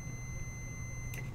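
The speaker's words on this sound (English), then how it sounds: "continuity that gives you an audible beep on here" A multimeter's continuity tester gives a steady, faint high-pitched electronic beep throughout over a low hum, with a short scratchy click near the end.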